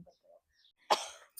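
A woman gives one sharp, close cough during a quarrel between sisters-in-law, and faint murmurs come before it in an otherwise quiet room.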